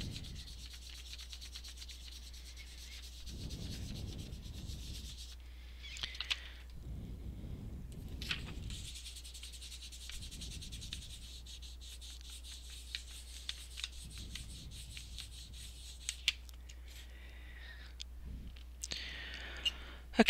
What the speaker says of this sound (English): I just need to give it a quick burnish.